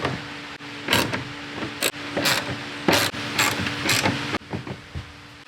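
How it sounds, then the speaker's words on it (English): A ratchet wrench clicks in short bursts, close up and loud, as bolts are tightened on a Decked drawer system installed in the bed of a Jeep Gladiator pickup. "Now I'm just going to use the ratchet,"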